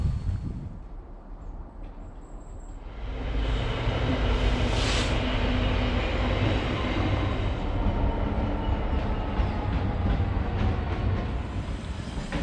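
A maintenance train rumbles past, quiet at first and then swelling into a loud, sustained clatter of wheels and rolling cars as it crosses the South Yorkshire Joint railway bridge near Doncaster.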